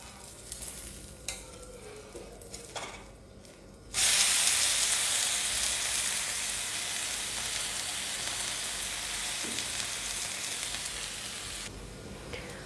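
An uthappam, freshly flipped in a pan with oil or ghee, bursts into loud, steady sizzling after a quieter start. The hiss holds strong for several seconds and eases slightly near the end.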